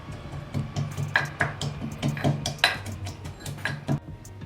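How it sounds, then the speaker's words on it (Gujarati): Ginger, green chillies and garlic are pounded coarsely with steady, quick thuds and clinks, close and moderately loud, repeating several times a second. "આપણે આદ કચરું ખાંડી નાખશું, આદુ મરચાં લસણ"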